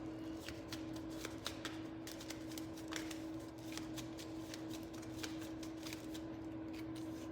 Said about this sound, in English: I was just thinking as I was shuffling